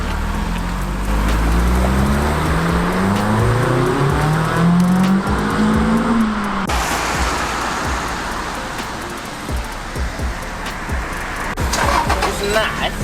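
Ford Focus ST170 on a road test drive, engine revving through gears with rising and falling tones over steady road and wind roar from inside the car, with people talking over it.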